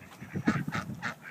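Several ducks or geese honk and quack in a burst of calls while being fed by a child, loud and close with a few overlapping squawks and no talk.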